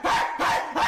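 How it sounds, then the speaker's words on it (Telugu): A dog barks three times in quick succession, close and loud, each bark short and sharp with brief gaps between, and no one talks. "ఈ కుక్క బాధేటి?"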